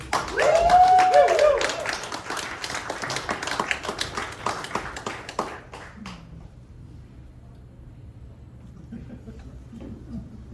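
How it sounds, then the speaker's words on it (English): An audience at an 80th birthday comedy show gives a round of applause for a sponsor, loud clapping and cheering for several seconds that fades to scattered claps and quiet room noise. "Everybody, just give a warm round of applause for one of our oldest sponsors."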